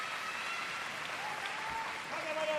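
A crowd at a New Japan Pro-Wrestling Best of the Super Jr. match applauds softly and steadily, a faint distant clatter of clapping under a commentator's voice.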